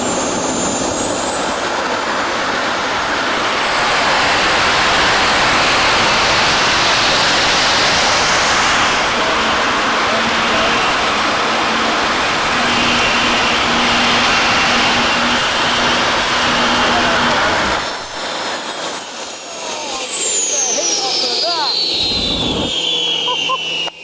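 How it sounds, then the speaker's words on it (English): A jet-powered dirt bike engine roars close and loud with its afterburner lit, a steady whine that climbs in pitch, holds, then winds down near the end under a broad rushing blast. "It's like a sonic boom when you first turn that afterburner"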